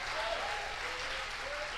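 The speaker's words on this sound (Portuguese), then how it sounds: "aplauda mais forte" Church congregation applauding together in a sustained, dense wash of clapping that holds steady throughout, fairly loud and close, with a faint tonal hum beneath.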